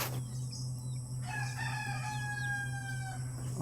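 A rooster crows once with a long, drawn-out call over a steady low hum and background noise.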